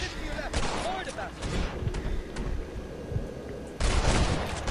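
Sniper rifle fire in Red Dead Redemption on PS4, with sharp loud reports near the start and again near the end over a continuous rumbling game soundscape, with a voice talking throughout.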